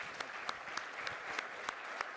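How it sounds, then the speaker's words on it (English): Applause from a live audience at a farm-to-plate livestock trade event honoring a butcher, a dense steady wash of clapping with individual sharp claps popping out, fairly distant and soft. "A round of applause,"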